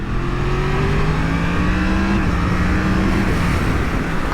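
A 2020 Yamaha MT-10 motorcycle engine revs up through rising gears on the road, a loud, continuous close drone with climbing pitch that steps down at each shift, heard without talk.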